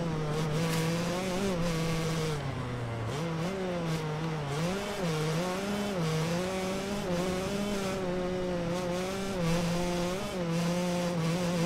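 A 125 two-stroke motocross bike engine in the MXGP Pro game drones at high revs throughout, pitch rising and dipping as the throttle shifts, loud and continuous with no talk over it.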